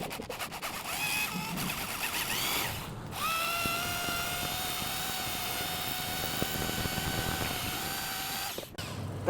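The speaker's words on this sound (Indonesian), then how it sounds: "Kita bor dulu bertahap ya, jangan langsung besar ini" A power drill bores into a hard metal Yamaha crankshaft with a drill bit, whining steadily and loudly near the microphone, with short pauses where the bit stops and restarts.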